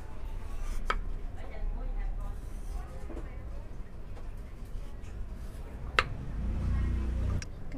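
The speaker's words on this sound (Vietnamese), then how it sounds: "Trước tiên bây giờ em cắt khoai tây ha" A knife slices potatoes thinly on a cutting board, giving a few sharp, scattered taps under steady talking and background noise.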